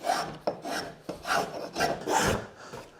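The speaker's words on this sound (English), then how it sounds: "So this is kind of a coarse set spoke shave, so we're able to remove pretty fast and controlled." A coarse-set spokeshave carves a wooden spiral seashell in a series of about six rasping strokes, each a short scraping burst close to the listener, with no talking.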